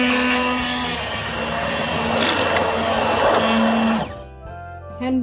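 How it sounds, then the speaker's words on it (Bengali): A hand blender whirs loudly as it mixes rice batter for chitoi pitha, keeping a steady motor drone with slight pitch shifts before it winds down and stops near the end. "হ্যান্ড ব্লেন্ডারের সাহায্যে আরো খুব ভালোভাবে ব্যাটারটা তৈরি করে নিচ্ছি"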